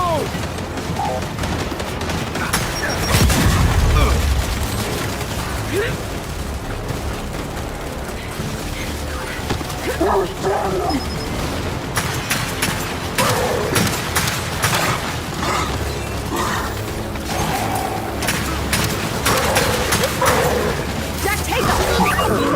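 A grenade blows up in a Gears 5 firefight with a deep, heavy low thump early on, then sustained bursts of gunfire and crashing battle noise, with voices shouting over the din.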